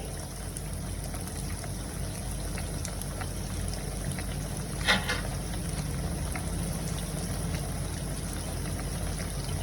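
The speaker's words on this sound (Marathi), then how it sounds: "हे वांग्याचे काप जे आहेत मी आता चांगले ह्याच्यामध्ये तेलामध्ये फ्राय करून घेते" Eggplant slices fry in oil over a medium-to-low gas flame, giving a soft, continuous sizzle. It stays steady and fairly quiet throughout, with one brief brighter crackle midway.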